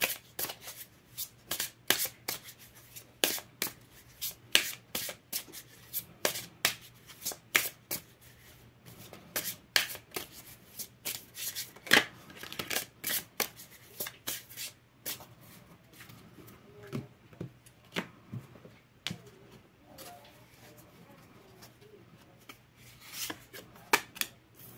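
A deck of tarot cards is shuffled by hand, close and fairly soft, in a long run of quick, irregular rustles and slaps that repeat for the whole stretch with no talking.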